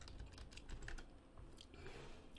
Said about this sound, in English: so by typing in www.google.com